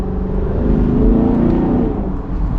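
A Chevy Camaro SS convertible exhaust rumbles and revs in manual mode, a deep, throaty burble swelling loud and close for a couple of seconds before easing off.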